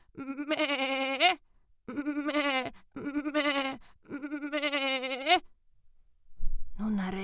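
A human voice imitates a goat, drawing out four long wavering bleats in sequence with short pauses between, followed by a brief low sound.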